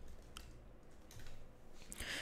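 Soft, quick keystrokes on a computer keyboard as code is typed, a faint irregular patter ending in a brighter burst of clicks.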